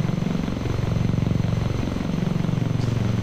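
Whirring rotor-like drone of a VTOL aircraft engine in X-Plane 11 as the throttle is pushed up, a steady pulsing low thrum held close and loud throughout.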